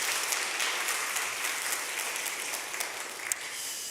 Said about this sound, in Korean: 김기영 님 일어서 주시면 환영의 박수 드리겠습니다